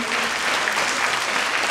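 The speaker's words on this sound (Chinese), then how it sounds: "所以我是给同学一个掌声" An audience of students at an environmental protection and disaster preparedness competition applauds, a dense, even burst of clapping filling the whole moment without pause.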